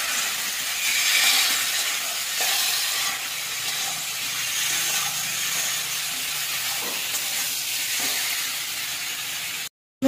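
Kohlrabi and potato sautéing in a pan with ground coriander, cumin, chilli powder and ginger paste, giving a steady close hiss with faint scraping under it for about ten seconds before cutting off abruptly.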